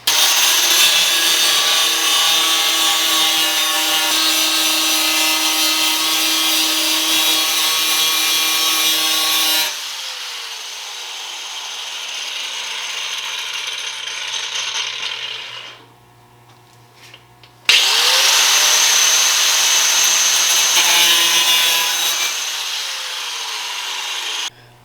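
A loud, steady abrasive cutting whine from an angle grinder cutting a Lexus SC300 front fender, running continuously, then dropping off briefly before starting again at full strength.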